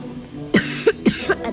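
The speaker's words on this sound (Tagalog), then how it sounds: "At inuubo pa rin." Four short, close coughs come in quick succession from someone who has a cold and a lingering cough after a one-day fever, loud and clear with no talk over them.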